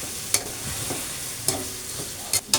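Chicken feet adobo with soy sauce is stirred in a pan over a low sizzle, with several sharp scrapes of a utensil against the pan at irregular intervals and no talking.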